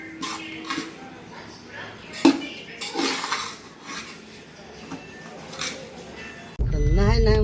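Homemade ghati masala spices dry-roasting in a pan as a utensil stirs and scrapes them, with irregular clinks and scuffs, then a loud, steady rush of noise near the end.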